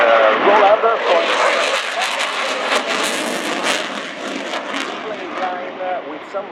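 An Italian Air Force Eurofighter Typhoon jet flies an airshow display, a loud, steady broadband roar that swells and eases slightly as the fighter passes along the display line.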